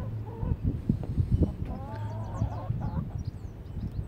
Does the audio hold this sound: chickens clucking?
yes